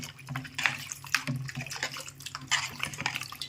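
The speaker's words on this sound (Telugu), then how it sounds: "ఇప్పుడు మనకి కావాల్సినన్ని నీళ్ళు పోసుకోవాలి." Water poured into a pot of drumstick sambar, a steady splashing, gurgling pour with a few utensil clinks, close and moderately loud with no talking.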